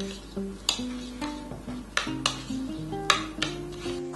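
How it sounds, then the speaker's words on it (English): Stuffing mixture seasoned with salt and pepper is stirred in a pan, a utensil clinking and scraping against the metal in irregular knocks, close and fairly quiet, with no voices. "we just add some salt and pepper and stir that up"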